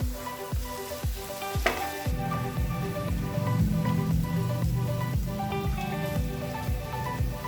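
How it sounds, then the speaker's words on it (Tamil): Chopped onions fry and sizzle in ghee in a pan for ghee rice, a steady close crackle with repeated sharp stirring taps from a utensil throughout. "நல்லா பொன்னிறம் ஆகுறது வரைக்கும் வதக்கிக்கோங்க."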